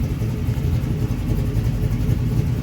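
A 1987 Chevrolet Silverado R10/C10 fitted with a Chevy Performance 6.2 liter LS3 crate V8, loud deep rumbling idle with a steady throbbing beat, close and alone with no talking.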